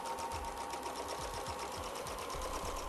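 A sewing machine stitches a rough, jagged zigzag stippling pattern, running with a steady rapid needle chatter and rhythmic thumps, close and continuous throughout.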